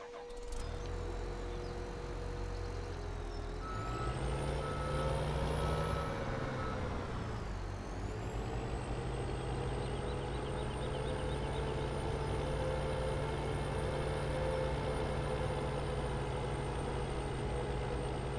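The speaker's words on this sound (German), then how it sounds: "Und jetzt fahren wir mal mit dem Radlader hier eigentlich nach oben." A wheel loader in Farming Simulator 17 drives along with a steady, droning engine, and its revs rise and dip as it shifts into reverse, with high-pitched electronic tones held over the continuous rumble.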